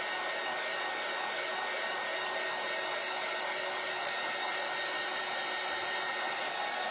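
Hair dryer blowing on glittered Christmas garland craft pieces, a steady, loud, unbroken whoosh and whine held for the whole stretch with no pauses and no voices over it.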